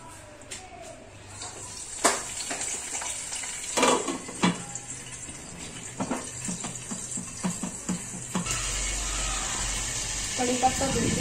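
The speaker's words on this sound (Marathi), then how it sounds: "आता भाजी मी फोडणीला टाकते." Pea vegetable dish going into hot tempering oil in a home kitchen, a continuous sizzle with sharp crackles and pops, spoon and pan clatter, and a louder hiss near the end.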